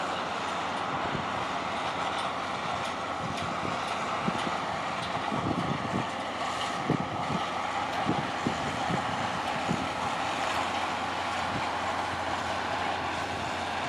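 A farm tractor driving through a hay field during the grass seed and hay season: a steady, loud mechanical engine drone runs throughout with intermittent low rattles and clunks of the machinery.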